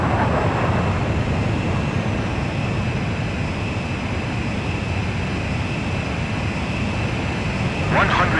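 Steady, loud jet engine roar from aircraft in Ace Combat 5: Demons of Razgriz during a mid-air refueling approach, a continuous broadband rumble and whine holding level throughout with a brief brighter swell near the end.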